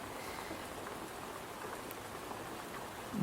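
Soft, steady rain patters in a continuous hiss, fairly quiet and even throughout, with a faint bump of noise right at the end.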